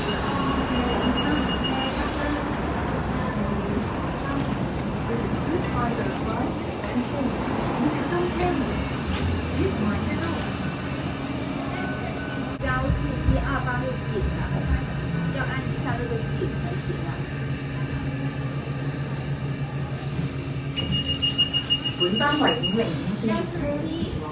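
A light rail train in Hong Kong rumbles and clatters continuously, with wheel squeal and a high electronic tone near the end; a voice speaks over it.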